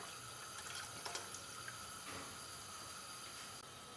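Half a bottle of water poured into a cooking pot while making eggplant parmigiana, a faint steady splashing hiss of liquid running continuously, no voices.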